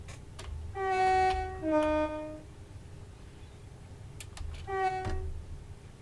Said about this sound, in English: Bit of horn.